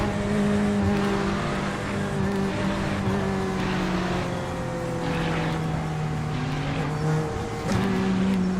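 A McLaren race car engine in the sim racing game iRacing drones steadily and loudly, its pitch rising and falling through gear changes with a continuous tonal whine and no talking.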